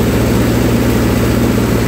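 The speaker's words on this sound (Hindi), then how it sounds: "ये अपना ट्रैक्टर है 585 पावर प्लस और पम्बी सम्राड़ा की मशीन है" A Mahindra 585 Power Plus tractor running a Pammi Samrala thresher at about 1800 RPM produces a loud, steady, close low-pitched engine drone with a regular mechanical throb and no talk.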